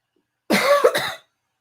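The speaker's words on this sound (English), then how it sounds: "you should have muted because you were coughing" A single short burst of coughing, close and fairly loud, surrounded by silence.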